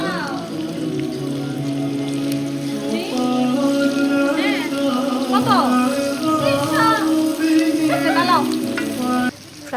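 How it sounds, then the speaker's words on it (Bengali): Shrimp fries in a pan, a steady close sizzle running throughout with music playing over it and a brief dip near the end. "এখন আমি চিংড়ি মাছটা ভাজি করে নিচ্ছি।"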